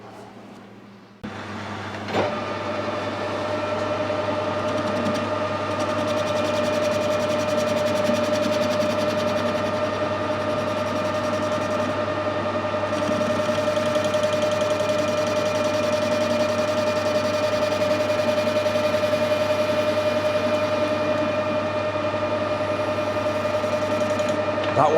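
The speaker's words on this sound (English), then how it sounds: "I'll square the end of the bar up first, and I think I'll bore the hole and do the thread first" A metal lathe squares the end of a bar stock for a motorbike headstock nut, giving a steady, loud mechanical hum with a sustained whine that starts after a brief moment and runs unbroken throughout.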